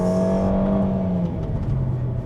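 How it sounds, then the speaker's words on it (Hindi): A Kia Stonic's engine revs hard with a strong rising tone, then briefly drops as the gear shifts and pulls again, heard up close from inside the car without speech. "यूजुअली लोअर स्पीड्स पे इंजन की आवाज़ नहीं आ रही आपको, जब आप सुनना चाह रहे हैं ना। हाँ, व्हेन यू रैप इट तो आती है।"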